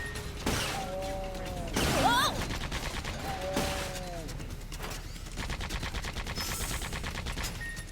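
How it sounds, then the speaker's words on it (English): Shotgun blasts in the video game Sand Land, a few sharp reports spread across a busy game soundscape, with a voice talking over parts of it. "The range of this shotgun is terrible."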